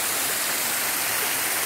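Waterfall at Cachoeira do Antonico in the Ibitiranga region, a loud unbroken roar of falling water close by, with no voices.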